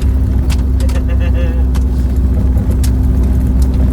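Car rolling along a dirt construction stretch of Alaska's Dalton Highway, a steady close road rumble with low engine drone and gravel noise throughout, with brief talk inside the cabin.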